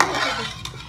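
A spoon stirs and mixes chicken curry with salt in a pot, a brief close scraping swirl with light sizzling and a faint clink of metal near the end.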